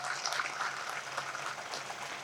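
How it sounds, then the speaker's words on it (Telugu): Audience at a Hindu Maha Sammelan gathering applauds for the event volunteers, a steady, dense wash of clapping that holds evenly throughout at moderate distance. "వాళ్ళకు కూడా ఒకసారి గట్టిగా చప్పట్లు"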